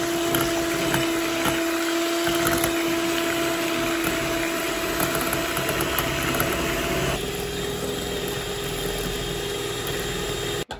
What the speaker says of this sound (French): je vais prendre mon batteur et faire mousser le mélange